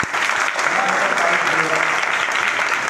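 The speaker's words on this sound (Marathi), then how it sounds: "तिच्यासाठी टाळ्या वाजवा." An audience clapping for a girl at a hypnotism workshop, a dense, even burst of applause filling the room, loud and continuous throughout.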